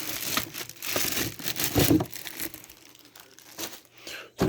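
Plastic packaging crinkles and crumples as a Hoover React whole home cordless vacuum is unwrapped, with bursts of rustling and a brief tearing sound, fairly close and moderately loud, easing off toward the end before a final crinkle.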